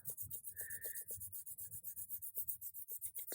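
A stencil with letters is rubbed over onto a book page, giving quiet, rhythmic scratchy strokes back and forth, about a dozen close, soft rasps in steady succession.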